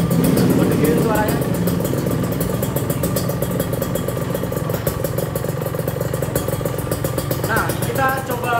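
A Kawasaki Ninja SS motorcycle fitted with a Tosh Tec exhaust idles steadily nearby, a loud, even, rapid engine burble with clattering pulses, while people talk over it.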